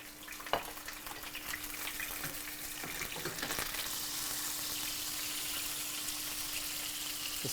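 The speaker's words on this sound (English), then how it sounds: "Just make sure that you're browning it on all sides." Meatloaf browns in a little oil in a pan on the stove top, giving a steady, bright sizzle with a few sharp pops and crackles early on, then settling into an even hiss.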